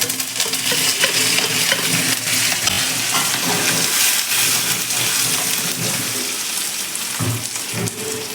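Curry leaves crackle and sizzle loudly in hot oil for lemon rice, a dense continuous frying hiss with occasional clinks of stirring, close and without speech.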